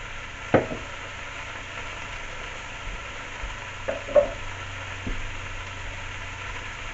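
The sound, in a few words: carrots, celery and onions cooking in pot for pot roast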